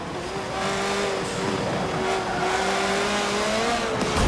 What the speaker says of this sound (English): I'm breaking the tires loose going into third gear